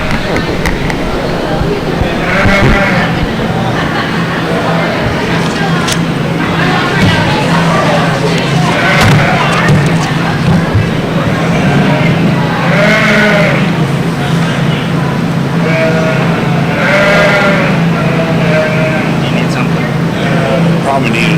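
Cotswold yearling ewes bleating at a youth sheep show, several repeated bleats from different animals at mid distance over a steady hum of show-barn noise, with voices talking.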